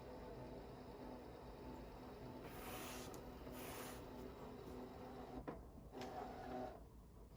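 A fabric cutting machine scans its mat with a faint, steady mechanical whir, punctuated by a few soft clicks and motor shifts near the end.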